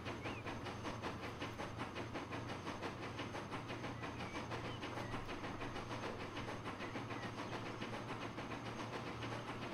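Trains rolling across a rail network in the video game Transport Fever 2 make a steady, faint hissing rumble with a repeating clatter of wheels and a low engine drone throughout.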